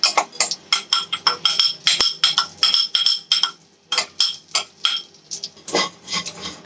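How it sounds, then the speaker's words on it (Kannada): Vermicelli fried in a pan after dry fruits for payasa, stirred with a utensil in a run of rhythmic scraping and rasping strokes with faint clinks, close and fairly loud, without talk. "ಅದೇ ಪ್ಯಾನ್ಗೆ ಶಾವಿಗೆನ ಹಾಕಿ ಫ್ರೈ ಮಾಡೋಣ"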